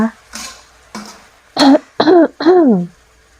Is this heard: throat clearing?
yes